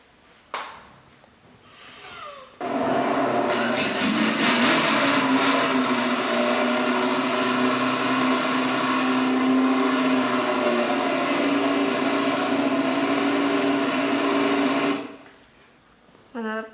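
Motorcycle racing sound effect: a loud, sustained engine roar that swells in after a couple of seconds, holds steady for about twelve seconds, then cuts off, with brief quieter sounds at the start and end.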